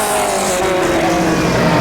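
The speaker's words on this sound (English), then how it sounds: "I think I'm probably just over-revving the car." A 1960s Formula 1 car engine in the rFactor 2 racing game screams near its rev limit, a loud, sustained high-pitched whine held steady for the whole short stretch with no pause.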